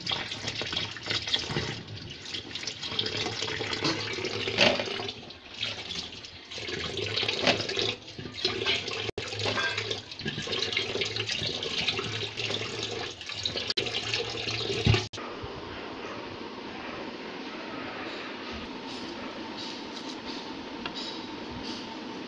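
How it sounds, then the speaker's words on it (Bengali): Cut potatoes being washed together under a running kitchen tap, a steady close rush and splash of water with sloshing and clinks for about fifteen seconds, then the flow stops, leaving a quieter background with faint drips. "এখন এগুলা একসাথে ধুয়ে নেবে তরকারি রান্নার জন্য"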